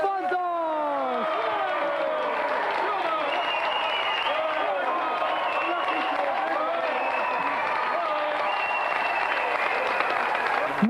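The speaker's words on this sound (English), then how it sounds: "a big round of applause for our gallant competitor, George Serafontos!" A TV game-show studio audience applauds a competitor with steady, continuous clapping under a presenter's lively voice talking over it throughout.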